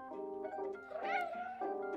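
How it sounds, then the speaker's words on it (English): A cat meows in the video game Stray: close, loud, drawn-out tonal cries that run together over two seconds, rising and bending in pitch midway, with no talk over them. "was that me meowing yes?"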